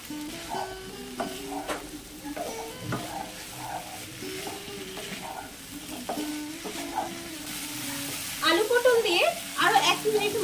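Fried potatoes and pointed gourd are stirred into a spice paste in a pan for a vegetarian Bengali curry, with a steady sizzle, repeated spatula scrapes and a louder burst of frying near the end, close-up.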